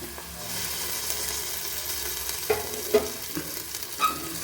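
Crushed ginger garlic paste sautéed with onions and green chillies in a pan for chicken biryani, a steady close sizzle broken by several distinct spoon clinks and scrapes against the metal.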